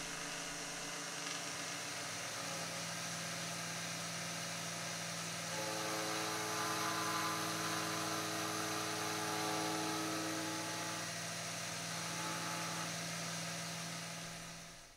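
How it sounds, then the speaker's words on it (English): A milling machine cuts a brass workpiece for a wing blister, making a steady, sustained mechanical whine with a constant hum beneath it. The sound grows slightly louder partway through and then holds evenly. "The milling process involves the rotation of the material so that there's an equal amount removed from both"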